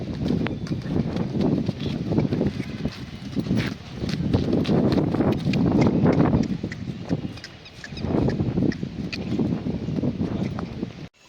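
Steady clip-clop of horse hooves on a hard surface, a continuous rhythmic trotting sound that carries on throughout without speech.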